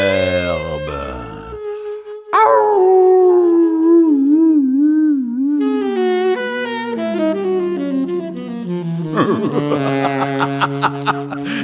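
Loud, drawn-out howling with wavering, sliding pitches, several voices overlapping in long sustained cries.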